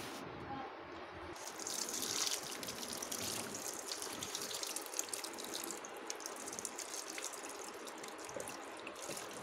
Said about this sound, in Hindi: अब हम इसको पानी देंगे